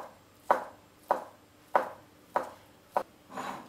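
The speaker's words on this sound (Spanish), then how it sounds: "Picamos también el surimi o palitos de cangrejo" A knife chops surimi crab sticks on a board in six crisp, evenly spaced strokes, close and clear with no talk.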